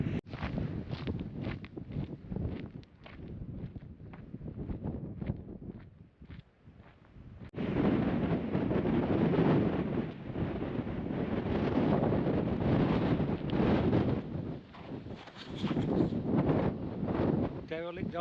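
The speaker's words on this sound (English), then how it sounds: "that wind ain't give up all day" Strong wind roars and buffets the microphone along a coastal trail in Portugal between Vila do Bispo and Salema, gusting loudly throughout with a louder surge midway, while a person talks now and then.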